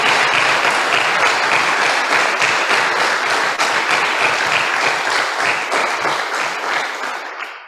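An audience at the Pergamino hub applauds steadily, a dense wash of many hands clapping that holds evenly and then fades away at the end, with no voices over it.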